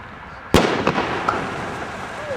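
A delayed-ignition firework shell at a fireworks shooter course bursts with a single sharp, loud bang, followed by fainter pops and a crackling rumble that fades.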